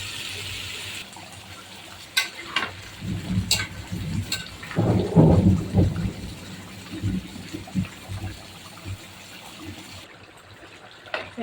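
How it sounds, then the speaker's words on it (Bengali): A thunderstorm with heavy rain and repeated lightning, steady rainfall hissing throughout while a deep rumble of thunder swells in the middle and fades, with a few sharp crackles scattered across. "এমনভাবে বিদ্যুৎ চমকাচ্ছে"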